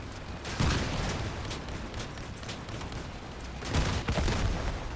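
Continuous gunfire and rocket blasts in a shooter video game, with Cicada rockets among the weapons, form a steady dense barrage, with two heavier bursts standing out near the start and toward the end.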